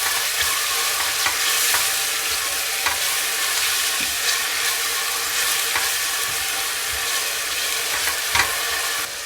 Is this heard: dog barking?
no